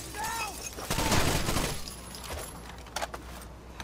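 Gunfire and breaking glass ring out in the video game Rainbow Six Vegas 2, a burst of loud shots and shattering followed by scattered sharper cracks, with players' voices mixed in.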